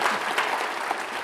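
A short, lively burst of audience applause welcoming New Orleans mayor Mitch Landrieu at a panel session, many hands clapping close together at even loudness.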